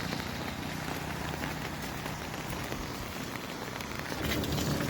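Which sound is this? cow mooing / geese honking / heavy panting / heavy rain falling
heavy rain falling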